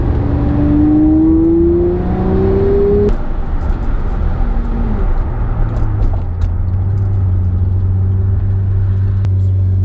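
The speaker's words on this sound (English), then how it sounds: "Let's get out through the revs here." A car engine revs hard while driving, loud and close, climbing through the gears and then settling into a lower, steady drone.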